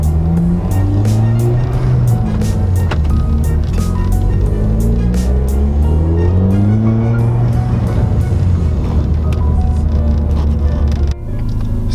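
A Ford Fiesta ST fitted with an Accessport tuner drives on the road, its engine loud and continuous, revving up and down through the gears with rising and falling pitch, then dropping off abruptly near the end.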